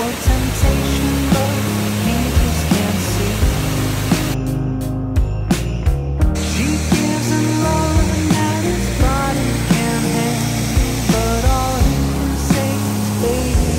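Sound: waterfall rushing

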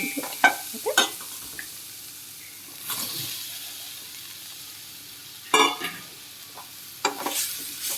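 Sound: stirring fried raw banana pieces into masala in a pan

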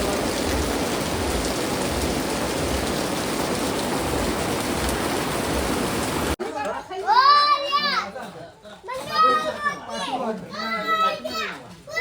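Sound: heavy rain

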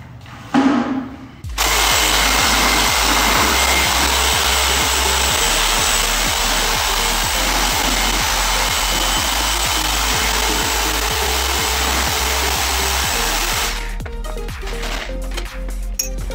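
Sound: drill mixing epoxy coating

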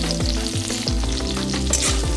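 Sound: potatoes and beans frying in oil

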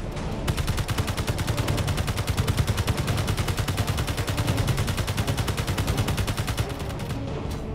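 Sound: gunfire in Space Engineers video game

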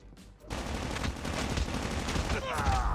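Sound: gunfire in video game COD Mobile

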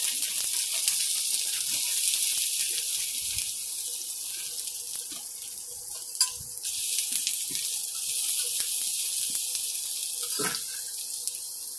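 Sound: potatoes sizzling in hot coconut oil in a pan

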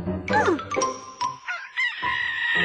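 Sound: rooster crowing

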